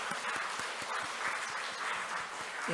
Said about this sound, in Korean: 박수로 우리 환영하겠습니다.